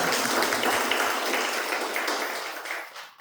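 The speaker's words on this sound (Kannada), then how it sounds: "ಸೊ ಅದಕ್ಕೆ ನಿಮಗೆ ಎಲ್ಲರಿಗೂ ಒಂದು ಚಪ್ಪಾಳೆ." Audience applause at a gathering of parents in an education programme, dense sustained clapping from many hands that holds steady, then thins and tapers near the end.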